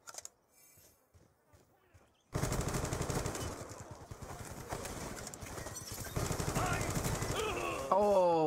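Video game gunfire in a first-person shooter match, a dense rapid burst of shots and loud action sounds that runs for several seconds after a quiet start.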